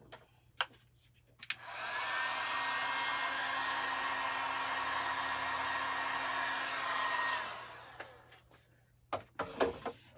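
Hair dryer drying paint on a rustic craft turkey made mostly from Dollar Tree supplies: a few clicks, then a steady loud whooshing whine for about five seconds before it cuts off, followed by handling knocks.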